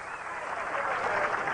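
Audience applause rising after a winning shot in a pool game between Minnesota Fats and Mosconi, a steady dense wash of clapping with crowd noise under it throughout.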